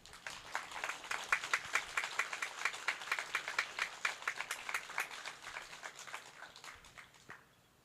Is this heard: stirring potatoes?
no